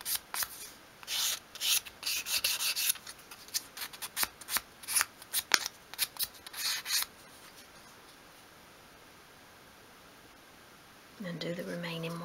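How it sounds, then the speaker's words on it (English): Fine sandpaper rubs in short, quick strokes over a small 1/12 scale wooden wall cupboard, close and fairly quiet, followed by a pause and a brief bit of speech at the end. "you can take a smaller piece of finer grade sandpaper and just tidy those up"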